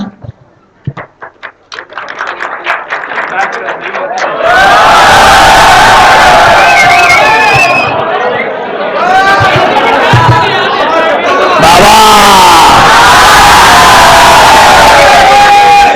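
A large audience applauds and cheers loudly after a mimicry act at a college festival show, the sustained clapping and whooping crowd noise swelling after a few seconds and carrying on for most of the span.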